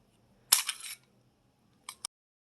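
A flare gun fires in a video game: one sharp, loud shot with a hissy burst, then two quick clicks after a pause, in otherwise quiet surroundings.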